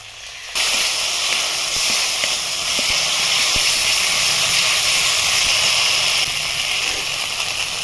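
A ground spice paste hits hot oil with fried onion and garlic, and a loud, steady sizzle bursts up suddenly and holds, hissing evenly with no voices.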